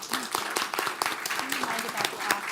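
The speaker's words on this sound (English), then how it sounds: "I want to give you all a round of applause" A room full of people claps steadily, dense irregular applause continuing throughout with voices mixed in.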